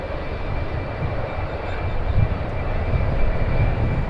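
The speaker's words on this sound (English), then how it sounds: "I am hearing the, let's see, the idle sound of the RB211 engines powering the 757 United Airlines" The RB211 engines of a United Airlines Boeing 757 idle at the airport, a steady broadband roar with a faint high whine, constant and moderately loud with no voices.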